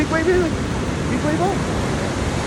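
Ocean waves wash onto a beach in a steady, loud broadband roar with no clear breaks, while family voices call and chatter over the surf.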